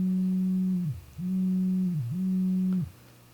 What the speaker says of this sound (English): it's modulating so fast, you sort of get those ring modulator tones